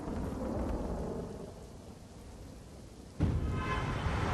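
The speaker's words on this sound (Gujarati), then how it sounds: "વરસાદ હજી પણ ચાલુ છે" Steady hiss of heavy rain falling at a road junction in Gujarat, with a deep thunder-like rumble underneath that fades and then swells again suddenly.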